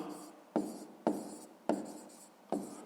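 Pen strokes writing a maths problem, four crisp taps each followed by a short scratchy drag, near and soft, with no speech.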